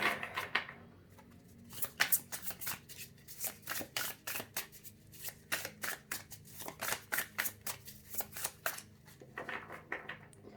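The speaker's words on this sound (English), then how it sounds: "The tarot deck has been shuffling like really slowly for all 4 piles" A tarot deck is shuffled slowly by hand, giving a faint, close series of crisp card flicks and riffles in irregular bursts, with no talking.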